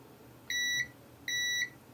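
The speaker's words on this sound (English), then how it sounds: "Meter is set in continuity mode to show a continuous path" A multimeter in continuity mode emits two identical high-pitched electronic beeps, each lasting about a third of a second, clean and close against a quiet background.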